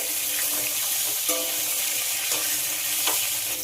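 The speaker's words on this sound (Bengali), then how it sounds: "আলুটাকে ভেজে নেব।" Three medium potatoes cut into long strips fry in oil in a pan with a steady, close sizzle and occasional stirring scrapes, and no talking.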